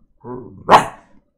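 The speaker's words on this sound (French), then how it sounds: "les chiens, des fois, ils aboient. Ils font ce bruit-là" A low growl leads into one loud, close dog bark that cuts off quickly, with nothing else around it.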